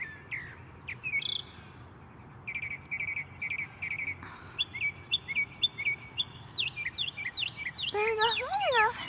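Morning birdsong in the Sugarland and Stafford area: repeated bright chirps and whistled calls from several birds, fairly close, over a steady hum of crickets, with soft voices at times.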